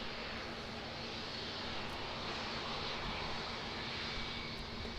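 A Cessna 208 Grand Caravan sits on the runway at Auckland Airport, its turboprop engine a steady, fairly faint broadband roar that stays unchanged throughout, with no talk over it.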